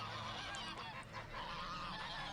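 Greylag geese honking in a marsh, several loud nasal calls overlapping in quick succession, close and continuous with no voices.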